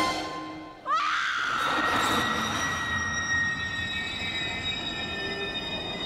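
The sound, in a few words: train brakes screeching at platform in film The Lost World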